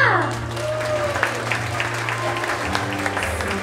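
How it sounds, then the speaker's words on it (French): Audience applauding at a Lion King stage show in Florida, a steady wash of clapping from a crowd that runs throughout, with music and a voice underneath. "Peuple de terre de lumière, applaudissez notre futur roi Simba!"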